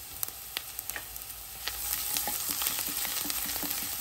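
Crushed garlic and ginger sizzle in hot ghee, a close bright crackle that thickens and swells after a couple of seconds, with scattered sharp pops and light stirring clicks and no voices.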